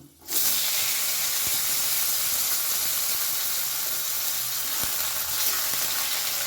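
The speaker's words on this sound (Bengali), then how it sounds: "আলুটা সামান্য একটু ভেজে নেব" Long-cut potatoes fry in oil with nigella seeds for a spicy small-fish chachchari, a loud, continuous close sizzle and hiss that starts suddenly and holds steady throughout, with a couple of faint clicks.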